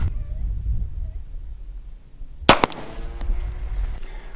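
A single sharp, loud 9mm pistol shot fired into a test target, preceded by quiet background murmur and followed by a ringing decay and faint rustling.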